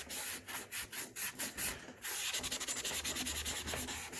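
Close, soft rubbing strokes as weathering paint residue is rubbed around on the surface of a Freewing F-14 foam model jet, in a steady rhythmic series of brief scrubbing passes, fairly quiet with no talk.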